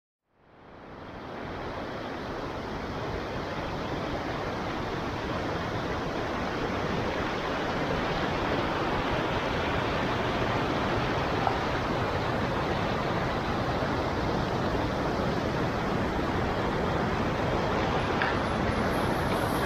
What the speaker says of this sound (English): show the waterfall area, it's called. Not exactly a waterfall, but cascading water.